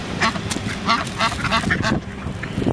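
Several ducks quack repeatedly in a lively, overlapping chorus, close by, with some outdoor background noise underneath.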